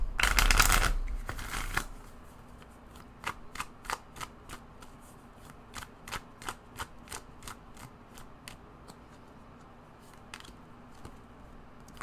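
Tarot cards are riffled in a loud shuffle, then a long series of crisp, separate card snaps and flicks follows as cards are drawn and laid out one by one, close and clear.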